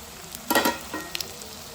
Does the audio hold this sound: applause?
no